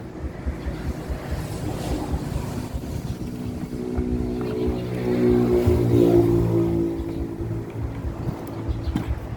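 The two-stroke engine of a 411 grass trimmer, hard to start and prone to revving up by itself, runs with a steady buzzing drone that swells louder for a few seconds before settling back, heard close with no voices.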